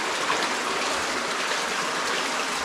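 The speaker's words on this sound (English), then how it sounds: "It's almost like a little waterfall over there." A small waterfall only a couple of inches high trickles inside Deadhorse Cave, giving a steady, even wash of splashing water that runs without a break and carries no voices.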